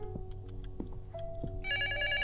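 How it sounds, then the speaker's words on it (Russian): A telephone rings in the horror video game Luto, several repeated ring bursts at moderate distance, ending in a brighter sustained electronic tone, with no speech over it. "Вон там где-то телефон."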